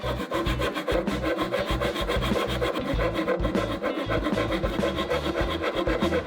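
A hand saw cuts fret slots into a guitar fretboard, giving a loud, steady rhythmic rasping stroke back and forth, close up and alone.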